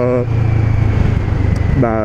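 A CF Moto 650NK motorcycle engine runs steadily and close by, with a low, throbbing drone and a slight rhythmic pulse that carries a clear mechanical sound from the front of the engine, while someone speaks over it briefly at the start and end.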